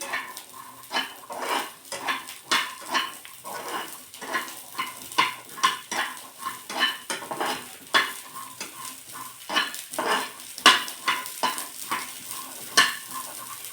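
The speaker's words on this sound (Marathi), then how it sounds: "हे मटार टाकायचे आणि परतून घ्यायच्या आहेत दोन मिनटासाठी" Green peas stir-fried in oil in a kadhai produce a rhythmic run of spatula scrapes and stirring strokes over a low sizzle, close and steady throughout.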